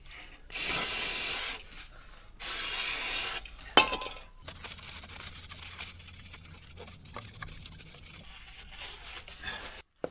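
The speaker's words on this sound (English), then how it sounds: "Let's clean up the inside of the housing and then we can put in the PowerFlex bushing." Inside of a suspension bushing housing on a Mini Cooper S R53 being cleaned, with two long bursts of spray hissing loudly, a sharp metallic clink, then quieter rubbing and scraping.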